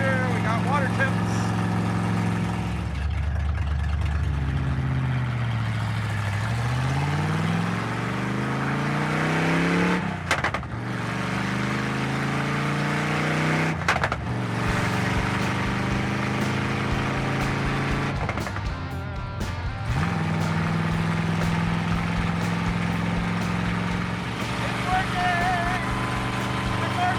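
A car engine idles and revs steadily, its pitch rising and falling in smooth sweeps, loud and close throughout with occasional talk over it.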